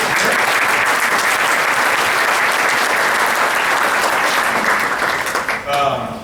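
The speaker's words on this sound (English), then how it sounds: "So if I get a big round of applause for the two of them" A big round of applause from the crowd at a startup demo day for two speaker coaches: dense, loud, continuous clapping that holds steady, then thins and tapers near the end.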